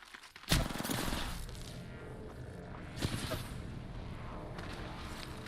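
Gunfire erupts in a shooter video game: a sudden loud blast, then dense rattling shots that fade and flare again with a second sharp burst, all close and heavy.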